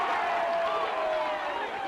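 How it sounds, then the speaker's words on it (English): Home-side crowd at a 2006 high school football regional championship between Steubenville Big Red and Dover Tornadoes, a steady roar of many voices in the stands, with commentators talking over it. "And the crowd on the home side will tell you."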